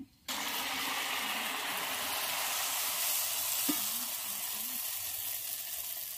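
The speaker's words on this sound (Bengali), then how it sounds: "কিন্তু চালের বাটা দিয়ে একটু সামান্য গুড় মিশিয়ে এরকম ভেজে নিতে পারেন।" Rice-paste and jaggery pitha frying in oil, a continuous close sizzle that starts abruptly after a brief pause and stays loud and even, with a faint knock partway through.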